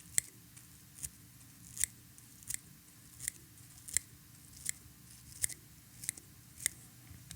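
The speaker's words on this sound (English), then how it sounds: "Before moving backward and trimming up the tail, removing some of the excess that's harder to reach with our longer scissors." Small scissors snip excess foam from the body and tail of a micro popper fishing lure: a steady run of crisp, close cuts, about one every 0.7 seconds, with no voices.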